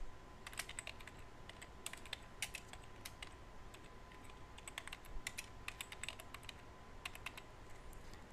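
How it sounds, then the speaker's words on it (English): Fast, irregular clicking of typing on a computer keyboard while entering text into a WordPress blog post, close and fairly quiet, with bursts of keystrokes and brief pauses and no talking. "now what I'll do is I'll type in some text"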